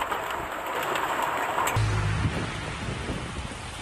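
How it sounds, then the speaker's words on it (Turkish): A heavy rain downpour pours steadily during a strong storm in Kırklareli, a dense, constant wash of water noise that shifts in tone about halfway through, with no voices. "Kırklareli'de de şiddetli sağanak etkili oldu."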